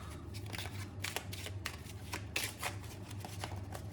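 Small-format oracle cards being shuffled by hand, a quick run of crisp riffling flutters and soft slaps, close and fairly quiet, with no talking.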